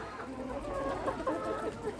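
Farm chickens clucking steadily in a flock at a poultry seller's yard in Sayxunobod district, Sirdaryo region, Uzbekistan, with several overlapping hens close to the microphone and no talk.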